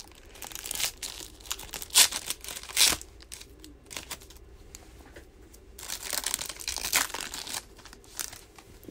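A basketball trading card pack is torn open up close, with bursts of crinkling and ripping foil wrapper coming in uneven rushes, loudest around a few sharp tears, then quieter rustling.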